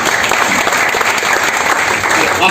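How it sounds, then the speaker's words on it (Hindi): An audience at a live RCM business event claps loudly and steadily throughout, a dense, continuous round of applause with no pauses. "जोरदार ताली बजाते हैं।"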